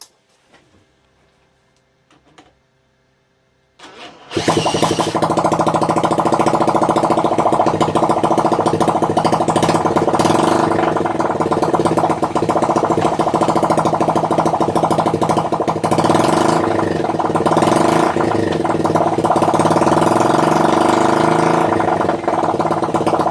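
A 1978 Honda CF70 Chaly motorcycle engine, freshly rebuilt, fires up after a few seconds of near silence and runs with no exhaust fitted, a loud, raw, steady buzzing idle that continues to the end.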